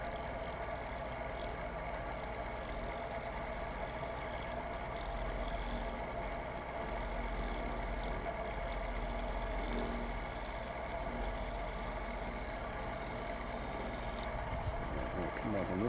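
A wood lathe turns steadily while a cutting tool scrapes and rasps against the spinning workpiece, producing a continuous, fairly quiet grinding hum with no breaks over the motor drone.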